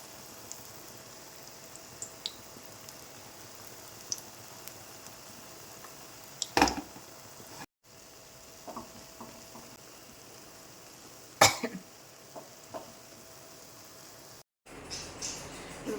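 Gulgule batter spoonfuls fry in hot oil, giving a faint, steady fizzing crackle broken by a couple of louder popping clicks and two short silent gaps.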